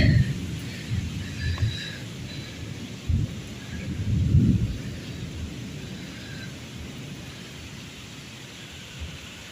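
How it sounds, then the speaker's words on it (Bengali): A thunderstorm with heavy, wind-driven rain; deep rumbles of thunder swell near the start and again around the middle, over a steady hiss of downpour that carries on to the end, with no talking. "দেখো কি বৃষ্টি হচ্ছে পাখিরাও ভয় পেয়ে যাচ্ছে"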